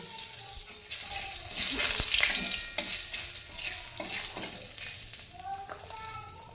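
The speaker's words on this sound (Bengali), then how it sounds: "দুটো তেজপাতা দিচ্ছি, একটা শুকনো লঙ্কা কেটে দিচ্ছি। এগুলোকে আমি ভালো করে ভাজি।" Bay leaves, cumin seeds and a cut dried red chili fry in hot oil in a pan, giving a steady, fairly loud sizzle that runs through the whole stretch with faint stirring noises underneath.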